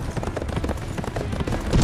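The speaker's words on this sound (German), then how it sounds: "Mit dem Pferd geht's schneller." Horse hooves clip-clop in quick, steady rhythm in the video game Berserk and the Band of the Hawk, a brief galloping patter heard up close.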